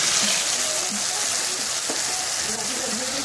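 A little water goes into a hot pan of fried green chilli, garlic and sauce mixture, bringing a loud, continuous hiss and bubbling sizzle, close and steady.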